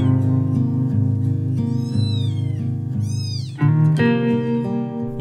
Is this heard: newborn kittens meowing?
yes